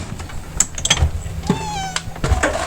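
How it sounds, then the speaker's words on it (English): An older cat indoors in a camper gives a short meow amid faint rustling and shuffling sounds, close and moderately loud. "There's her cat right there."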